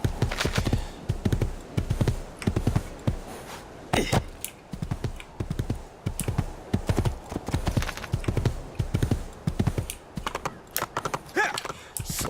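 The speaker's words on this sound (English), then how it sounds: "So let's go park our horse and check on her." Horse hooves galloping in the video game Assassin's Creed II, a steady rhythmic clip-clop pattern repeating loudly and close throughout with no talk over it.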